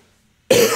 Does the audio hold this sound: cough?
yes